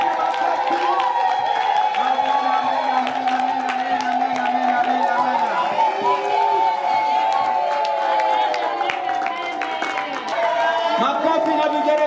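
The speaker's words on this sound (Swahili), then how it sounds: "Simama upige makofi." A wedding crowd stands and applauds, with sustained clapping, cheering and festive voices, while a voice calls out over the din.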